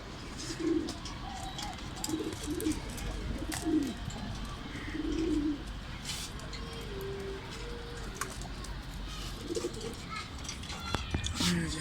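Giribaz and Sirazi pigeons sitting on eggs give soft, repeated low cooing calls, close and fairly faint, over a steady background hum.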